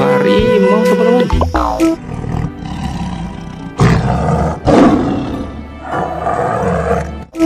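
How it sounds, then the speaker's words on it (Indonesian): A tiger lets out a series of loud, close roars and growls over several seconds, with short breaks between the bursts. "Wow, harimau, teman-teman."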